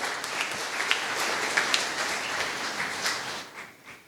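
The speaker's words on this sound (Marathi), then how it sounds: "सर्वांनी जोरदार टाळ्या वाजवाव्या" An audience claps at a book launch ceremony at Lok Seva Mandal in Bangli, with full sustained applause and a few sharper claps standing out, fading slightly at the end.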